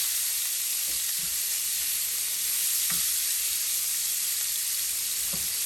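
Garlic powder frying in a pan gives a steady, bright sizzle throughout, with a few soft stirring scrapes breaking through at intervals.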